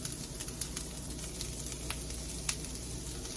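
Trader Joe's organic tempeh frying and being stirred in a pan, a steady close sizzle with a few soft scraping clicks from the stirring.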